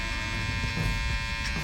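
Cordless Wahl Magic Clip hair clippers run with a close, steady electric buzz and hum, holding level throughout during a gentleman's haircut.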